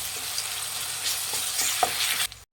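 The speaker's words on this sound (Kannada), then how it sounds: "ಇದು ಹಸಿ ವಾಸನೆ ಹೋಗೋವರೆಗೂ ಫ್ರೈ ಮಾಡಿ ಶುಂಠಿ ಬೆಳ್ಳುಳ್ಳಿ ಪೇಸ್ಟ್" Ginger garlic paste sizzles steadily in a hot pan with oil, a close broadband frying hiss with a few soft stirring scrapes, cutting off abruptly near the end.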